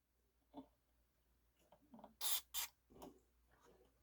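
Several short, sharp hissing bursts from a can of Deoxit F5 contact cleaner sprayed on a Realistic LAB-400 turntable, two long blasts in the middle with softer clicks and handling noises around them, close by.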